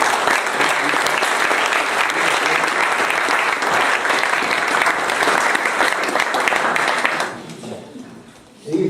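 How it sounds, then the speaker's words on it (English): A crowd applauds loudly and steadily at the prize giving of the English Boys under-14 golf Reid Trophy at Porters Park, then the clapping fades out near the end. "I think they're worth a round of applause."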